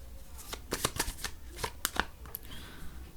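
Tarot cards are shuffled and drawn close up in a quick burst of crisp flicks and snaps, with a few softer slides at the end and no talk.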